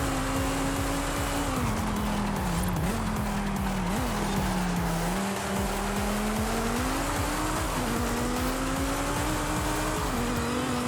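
Race van in a driving video game, its engine holding a loud, wavering drone and revving up and down while the tires squeal and skid almost continuously.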